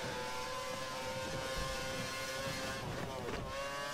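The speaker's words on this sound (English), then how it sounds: "Bit of a lift off, but I still go back on the throttle straight away." An F1 car engine in the F1 2013 racing game holds a steady high whine. Near the end the pitch wavers and dips as the throttle lifts briefly, then picks back up, under constant wind-like noise.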